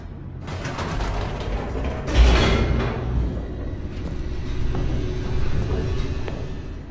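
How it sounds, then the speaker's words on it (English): An elevator plunging downward in the video game The Stanley Parable: a continuous mechanical rumble with ratcheting, creaking gear-like clatter, swelling into a louder clank partway through and then rolling on steadily, with no talking. "The elevator raced downward, plummeting towards an unknown fate."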